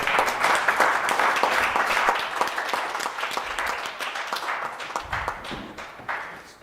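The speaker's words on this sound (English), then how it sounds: "Let's give them a round of applause." An audience at a city council meeting claps for presenters. Sharp, closely spaced hand claps ring out near and loud at first, then gradually thin and fade toward the end.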